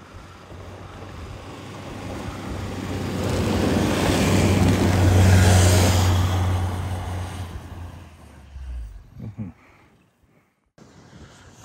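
A Toyota Land Cruiser Prado on a snowy mountain road with deflated-not tires, its engine and road rumble swelling to a loud peak mid-clip before fading, with wind noise and a few faint knocks near the end.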